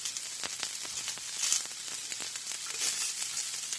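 Soft, steady sizzling from vegetables sauteing in a pan while making a Benihana-style hot dog, a faint crackle with light scattered pops, fairly quiet and with no voices.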